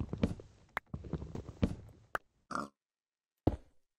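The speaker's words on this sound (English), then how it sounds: "Goddamn pigs." Minecraft pigs grunt and oink in a modded farming game, several short snorting calls in quick succession followed by scattered blocky footstep clicks and a final grunt, close and clear with no talk.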